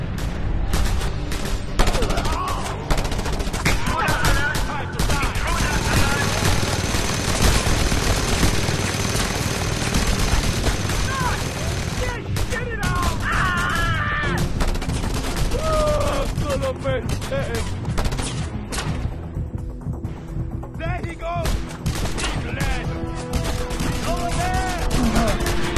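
Sustained heavy automatic fire from a mounted gun in the video game Just Cause 2, dense rattling bursts and explosions filling the mix continuously, with shouted voices over the battle.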